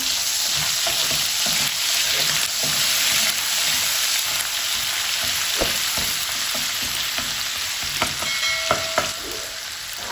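Steady, loud sizzling of ginger garlic paste frying in a hot pan, with occasional scraping clicks of stirring throughout; no voices.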